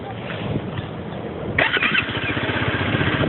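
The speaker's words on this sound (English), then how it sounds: "I'm gonna turn the bike on for you." A black 2011 Honda CBR 250R motorcycle with stock exhaust starts up partway through, its engine catching with a sudden burst and settling into a steady, fairly loud idle rumble after a stretch of low background noise.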